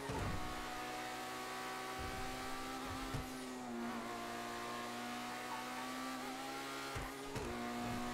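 A car drives a Monaco-style circuit in the video game GTA 5, its engine humming and revving smoothly at moderate distance, with brief shifts and faint tire noise, no talk.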